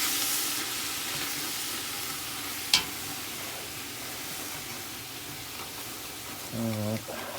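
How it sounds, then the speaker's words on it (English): Soup base for Portuguese kale soup sizzling in a pan under steady talk, with a sharp tap partway through and a wooden spoon scraping across the pan bottom near the end. "I'm going to get in here with my wooden spoon and scrape that bottom of the pan clean"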